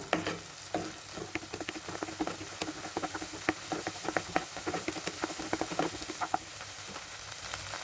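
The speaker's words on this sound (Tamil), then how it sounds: "தக்காளி நல்லா வதங்கி வரட்டும்." Oil crackles and sizzles steadily as chopped tomatoes sauté in a pan, with sharp irregular pops over a soft hiss, close and moderately loud.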